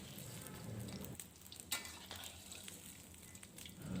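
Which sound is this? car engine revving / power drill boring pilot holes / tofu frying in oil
tofu frying in oil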